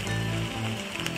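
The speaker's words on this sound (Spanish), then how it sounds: "y sigue lloviendo" Rain falling during a bicycle ride through the mountains of Japan toward Takayama, heard as a dense, steady hiss with a faint low hum beneath, even and unbroken, with no talk.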